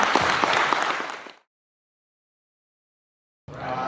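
Audience applause at a veterans comedy show at a VA hospital: a burst of clapping that cuts to silence after about a second and a half, then resumes near the end.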